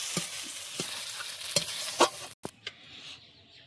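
Aloo chokha (mashed potato) with fried curry leaves stirred in a pan, with repeated scraping strokes at an irregular pace over a soft sizzle, close and moderately loud, no talking.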